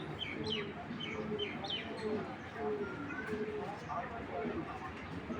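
An imported female racing pigeon coos and calls softly in short repeated notes close by, beneath someone talking in a quiet indoor loft.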